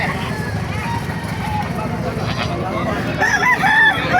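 Roosters crowing and chickens clucking amid a busy animal market in Baliuag, Bulacan, Philippines, with people talking nearby and a steady background bustle.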